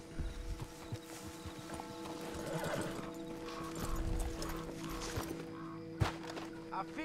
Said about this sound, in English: Let's leave the horses off the road to the right here.